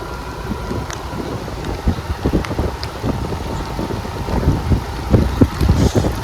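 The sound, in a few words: strong wind blowing at Munnar campsite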